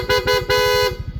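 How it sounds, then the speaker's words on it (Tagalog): A loud, brassy aftermarket PIA dual horn on a Yamaha Aerox V1 sounds in two short toots and then a longer blast, over a rumbling idle engine nearby. "ang in-install natin PIA auto style horn, dual horn setup, horn selector"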